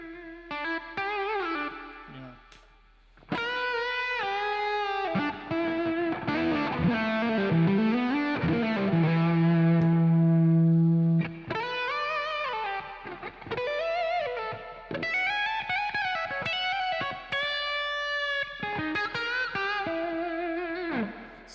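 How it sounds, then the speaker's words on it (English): Electric guitar notes and chords ring out through a reverb effect, with a long sustained low note in the middle and phrases trailing into echoing tails, played alone without talk. "So maybe my reverb's kind of set like this."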